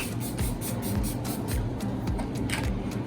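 Setting spray spritzes onto a face in a quick series of short, sharp misting bursts, close and fairly faint, repeating in an uneven rhythm.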